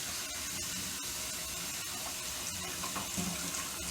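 Tap water runs steadily into a sink to rinse starch off rice, a continuous close hiss and splash with faint clinks over it.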